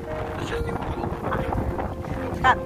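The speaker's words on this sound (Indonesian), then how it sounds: "Hari ini saljunya makin besar, anginnya besar, kuat ya." Strong wind buffets the microphone during a snowy Russian winter, a rough continuous rumble with gusts, and brief voices sound faintly underneath.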